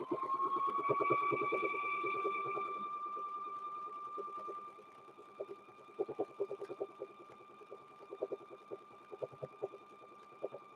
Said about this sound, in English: Okay, so we're going to sew down the bottom. Sew down the bottom here.